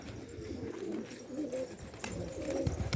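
Domestic pigeons coo close by in a steady run of low, throaty, rolling calls that overlap and repeat without pause.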